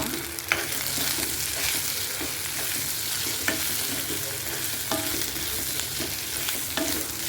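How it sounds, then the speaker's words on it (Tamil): Onions sauté with turmeric powder in a pan for a spicy dosa chutney, a constant close sizzle with occasional soft scrapes of a spoon stirring. "மஞ்சள் தூள் போட்டுட்டு வதக்கிக்கலாம்."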